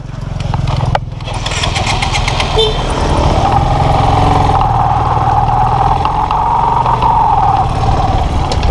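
A motorcycle engine catches and settles into a loud, steady idle with a low rumbling drone, rising slightly partway through and running continuously with no talking.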